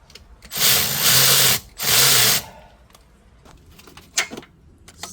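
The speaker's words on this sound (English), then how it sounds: "Let's tighten the bolt." A power tool tightens an alternator bolt on a 2006-2008 Hyundai Azera with a 3.3L V6, in two close whirring bursts of about a second each, followed by faint clicks and handling noises.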